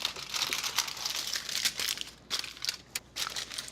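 Nonstick aluminium foil crinkles and crunches steadily as it is pressed over a baking dish of stuffed shells, a close, continuous rustle with brief dips.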